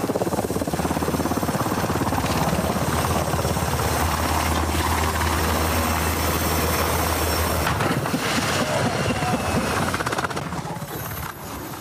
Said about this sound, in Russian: Вертолеты принимали участие в учениях Национальной гвардии США.